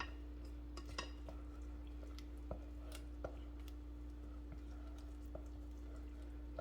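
Chicken al pastor stirred in a pan over medium-low heat, soft scattered scrapes and clicks of a utensil against the pan over a quiet steady hum, no talking.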